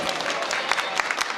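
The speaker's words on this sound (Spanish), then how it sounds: "un fuerte aplauso para" Applause from a crowd at a dinner and dance in a hall, greeting a singer about to perform; dense clapping with scattered sharper claps, fairly close and steady throughout.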